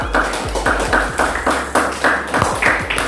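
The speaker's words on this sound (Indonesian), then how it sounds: "tepuk tangan buat kelompok Aura dan kelompok Pandu, kelompok 4" A classroom of students claps for two presenting groups, a brisk burst of many hands close by, sustained and fairly loud across the whole stretch with rhythmic swells and no talking.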